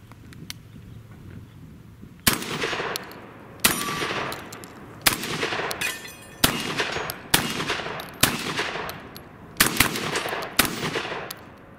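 A Benelli M1 Super 90 semi-automatic shotgun fires birdshot at steel targets about 12 yards away: eight loud, sharp blasts at a steady pace of roughly one every 1.3 seconds, each trailing off in a brief echo.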